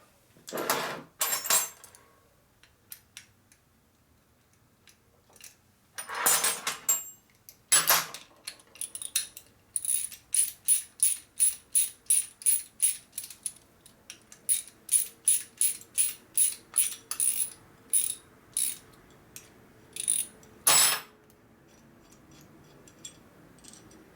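Ratchet wrench clicking as it backs bolts out of a Harley custom chopper's brake caliper bracket, with repeated short bursts of rapid ratcheting, close and moderately loud, separated by brief pauses and a few clanks of handled parts.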